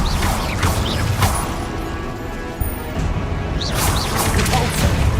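The Incendio fire spell in Hogwarts Legacy plays as a loud run of crashing, whooshing magical impacts with sharp thuds and swirling tones, steady and dense throughout.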